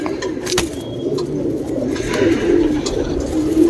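A male Cheeni pigeon with a long tail and a fawn shade coos close by, its soft rolling calls repeating steadily and leaving no clear gaps.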